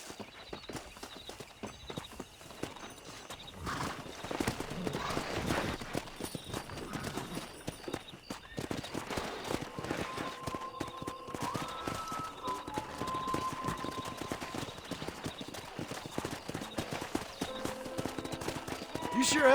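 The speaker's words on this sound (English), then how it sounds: "Let's see if we can't wrangle some horses." Horses gallop with rapid clip-clop hoofbeats across open ground while wrangling in the Western video game Red Dead Redemption, steady and fairly close, joined later by a sustained musical tone and other game sounds.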